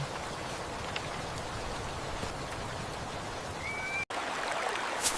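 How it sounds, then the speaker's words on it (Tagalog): Steady, soft hiss of rain falling, an even wash of noise with a faint brief tone near the end. "Sinabayan pa ito ng isang linggong tag-ulan."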